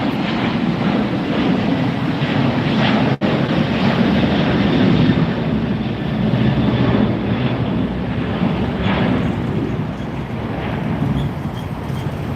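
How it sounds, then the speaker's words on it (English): A Korean Air Cargo Boeing 747 arrives at LAX at night after a flight from Seoul. Its engines give a steady, loud, broadband roar that holds throughout, with some wind rumble on the microphone. "There it is, arriving now, Korean Air Cargo, coming in from Seoul, 747."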